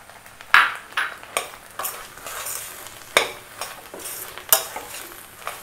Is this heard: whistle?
no